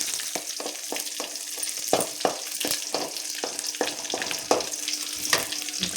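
Garlic frying in a generous amount of oil in a pan, a steady close sizzle broken by frequent stirring clicks and scrapes at an irregular pace, with no talk.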